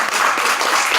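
Audience at a Spanish-language panel talk applauding, a brief, dense burst of many hands clapping close and loud.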